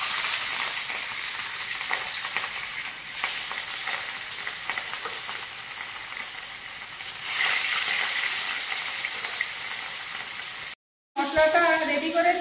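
Pieces of fish rubbed with salt and turmeric sizzle and spit steadily in hot oil in a wok, a loud close frying hiss that runs almost without a break, with a short gap near the end.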